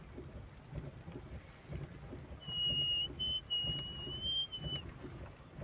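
Soft, steady rain patters outdoors at a distance, with a low rumble underneath and a faint whistling tone drifting in partway through.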